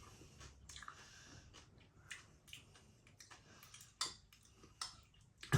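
Crunchy Huel mac and cheese pasta being chewed up close, with irregular moist crunches and soft clicks running through the whole stretch and a sharper bite near the end.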